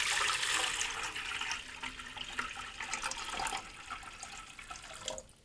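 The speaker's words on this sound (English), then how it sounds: "we're going to take and just put some water in it" Water gushes and splashes into a humidifier tank in a steady, close pour that holds for several seconds before tapering off abruptly near the end.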